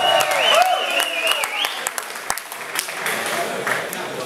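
A crowd around a fight ring applauds the two fighters after the decision, a dense wash of clapping with an announcer's amplified voice running over it.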